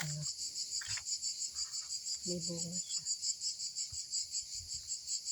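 Steady high-pitched cricket chirring runs continuously through the clip on a quiet mountainside, with a brief stretch of quiet talk and a few soft outdoor noises underneath.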